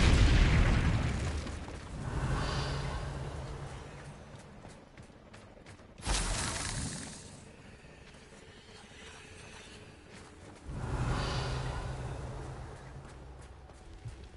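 Fiery spell blasts in the Hogwarts Legacy video game, three heavy booming explosions spaced several seconds apart, each bursting loudly then rumbling away into a low roar.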